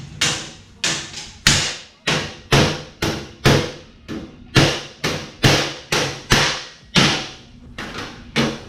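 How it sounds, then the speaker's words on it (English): Hammer blows on the edge of a sheet metal fender, struck one at a time in a steady rhythm of about two per second. Each hit is loud and close with a sharp metallic ring that fades quickly. "I'm just going to hammer it downward so it gives it a little more bow"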